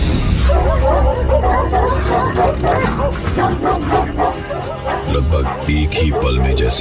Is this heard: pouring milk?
no